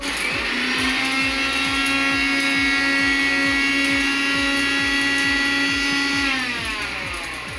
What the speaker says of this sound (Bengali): এলাচ আর দারচিনি যেটা নিয়েছি এটা গুঁড়িয়ে নেবো মিক্সিতে